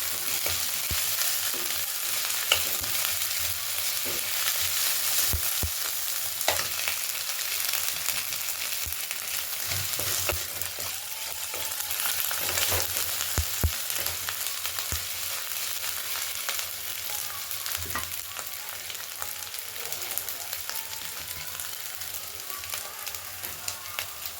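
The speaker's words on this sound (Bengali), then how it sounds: "আদা রসুনের পেস্ট দিয়ে দেবো দিয়ে ফের পেঁয়াজের সাথে ভালো করে ভেজে নিতে হবে" Onions fry with ginger-garlic paste in a pan, giving a continuous loud sizzle with scattered pops and spatula scrapes that runs unbroken from start to finish.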